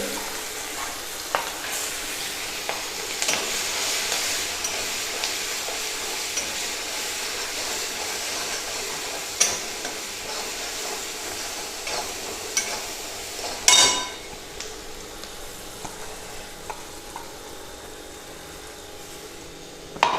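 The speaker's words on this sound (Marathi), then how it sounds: "त्याच्यामध्ये मी आता हिरवी मिरची घालून घेते" Green chilies go into a hot turmeric tempering and fry with a steady close sizzle. Occasional stirring clinks are heard, with one louder clatter partway through and no talk.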